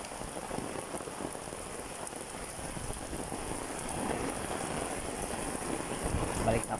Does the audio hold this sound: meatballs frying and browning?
no